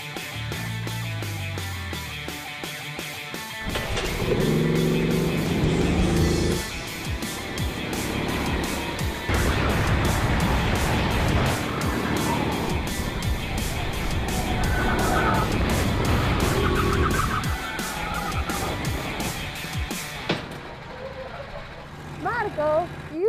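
Go-karts race around a track in a go-kart challenge, engines buzzing and droning continuously as they pass, with rising and falling revs and voices talking over the racing.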